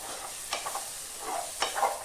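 Oyster mushroom masala roast frying in oil with spices, a soft steady sizzle broken by a few light stirring scrapes, close and alone.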